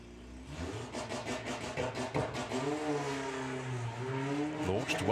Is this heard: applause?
no